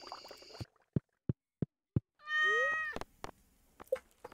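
A cat in the farming game Artisan Valley gives a single drawn-out meow, close and clear, set among a short run of sharp, evenly spaced clicks and small game sounds.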